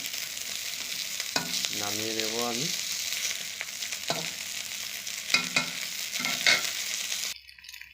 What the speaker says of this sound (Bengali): দেখুন 7 পিস করে মাছ ভেজে নিচ্ছি